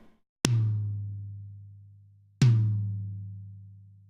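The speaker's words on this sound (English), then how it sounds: "So you can see that there's quite a bit more snap on this drum." Two processed tom drum hits from a metal-style mix, each struck after EQ, compression and transient shaping, with a sharp snappy attack and a long booming low ring that decays slowly; the hits are about two seconds apart, loud and close, with no talking.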